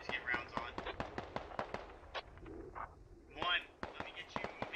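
Rapid gunfire crackles in the tactical shooter Squad Ops, a dense series of sharp distant shots and bursts, with a voice speaking softly between them.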